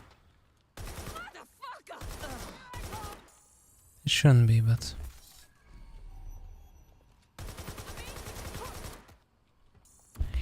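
AK rifle fire in Watch Dogs Legion comes in several sharp automatic bursts separated by short gaps, with one heavier burst in the middle, while a person talks between the shots.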